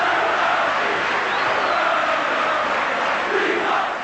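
A football stadium crowd roars loudly after a goal in a 1996 UEFA Cup match between Vitoria Guimaraes and Parma, a dense sustained wall of cheering that swells and then eases slightly.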